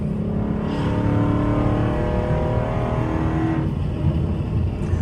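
Tuned Dodge Charger SRT 392 V8 pulling hard at half throttle, a close, loud, throaty engine roar whose pitch rises and holds before shifting slightly near the end, with no talk over it.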